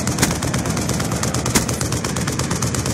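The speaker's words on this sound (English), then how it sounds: "Friendly VTOL warship inbound." A VTOL warship pours heavy gunfire into targets in Black Ops 2, a loud, dense, unbroken barrage of rapid shots and booms running throughout.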